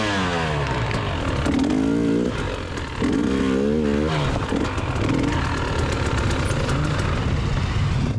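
Hard enduro motorcycle at the MadMadona Hard Enduro 2024 race, its engine revving and labouring hard through an obstacle, loud and close with rising and falling surges.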